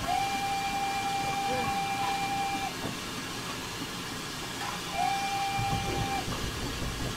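Steam locomotive whistle in Train Simulator 2019, two long steady blasts separated by a pause, heard over a constant hissing and rumbling cab background.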